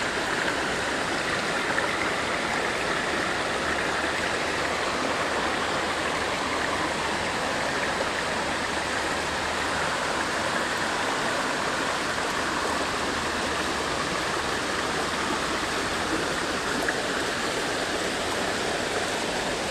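A brook runs steadily beside a garden, its water flowing in a continuous, even rush of broadband noise that stays constant and close throughout, with no voices.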